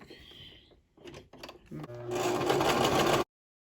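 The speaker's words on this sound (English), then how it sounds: "So here's an example of a long stitch that I completed with this machine." A Brother LX2375 sewing machine running a long basting stitch, starting with a few short bursts and handling noises, then a loud steady mechanical whirr up close before it stops abruptly.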